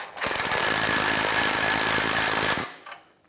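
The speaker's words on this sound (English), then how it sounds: "now with the 17mm socket, we'll go ahead and tighten those down" A 17mm socket tool tightens the catalytic converter nuts on a 2007–2013 Mitsubishi Outlander with a loud, rapid mechanical rattle lasting roughly two and a half seconds, then stops and fades out.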